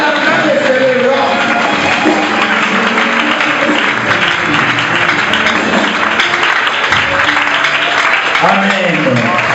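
Church congregation at a Christian celebration applauding and cheering together, a dense continuous wash of clapping and acclaiming voices that fills the room, loud and sustained throughout with voices rising over it.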